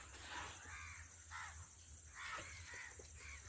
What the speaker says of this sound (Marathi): बघ इकडे किती कावळेच कावळे बघ.